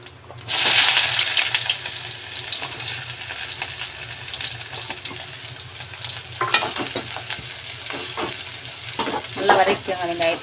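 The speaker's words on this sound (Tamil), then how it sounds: "நல்லா வதக்கிக்கோங்க வெங்காயத்தை." Sliced large onions fry in oil with fennel seeds in a pan for a chicken salt curry, giving a loud, steady sizzle broken by repeated scraping stir strokes, with no talking.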